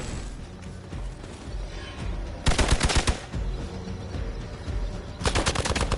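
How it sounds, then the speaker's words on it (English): Rapid bursts of gunfire in the video game Midnight Suns, two loud rattling volleys over a dense background of combat noise, with no talk. "Engaging fire."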